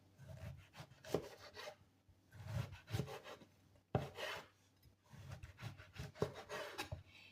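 A knife slicing through eggplant on a cutting board, bursts of rasping cuts with occasional knocks of the blade on the board, close and quiet.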